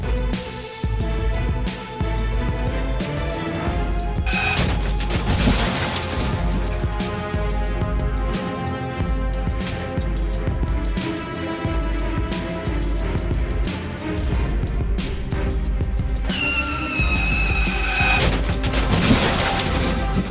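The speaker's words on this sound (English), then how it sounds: "The over-acceleration caused the car to flip over." A car flipping over in a street crash, with continuous loud crashing, scraping and shattering layered over engine noise and music-like tones for about twenty seconds.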